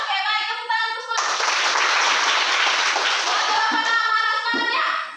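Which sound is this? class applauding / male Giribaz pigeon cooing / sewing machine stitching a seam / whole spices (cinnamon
class applauding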